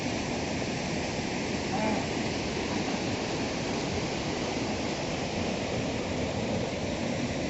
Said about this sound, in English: the waterfall becomes very large one